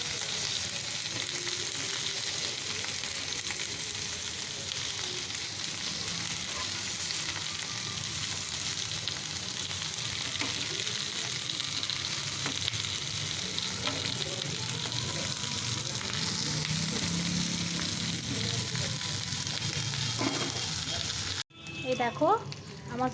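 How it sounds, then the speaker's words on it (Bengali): Bundled paturi fry in a little oil in a pan, a steady hissing sizzle that runs unbroken for over twenty seconds before cutting out abruptly. "সবগুলো বেঁধে আমি অল্প একটু তেলের মধ্যে ছেঁকে নিচ্ছি"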